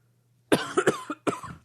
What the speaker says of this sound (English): I don't know why I'm coughing all the time.